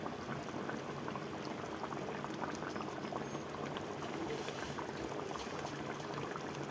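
A pot of Bengali curry boils steadily, with a dense, even bubbling and simmering that stays moderately loud and unbroken from start to finish, and no talking over it.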